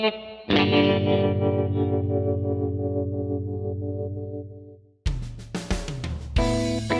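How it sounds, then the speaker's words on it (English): A Squier Bass VI played like a guitar through distortion and chorus effects, one long ringing chord wavering under whammy bar bends as it slowly decays, then a run of choppy, bright strummed notes. "the whammy bar can sound quite nice"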